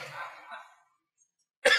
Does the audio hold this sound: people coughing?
yes